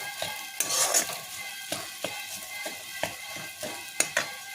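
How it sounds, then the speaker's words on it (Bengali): A spice mixture with chopped green chilli stir-fries in a pan, giving a soft sizzle punctuated by sharp, evenly spaced spatula scrapes and taps against the metal, with no talk. "মশলাটা আমার ভাজা ভাজা হয়ে এসছে"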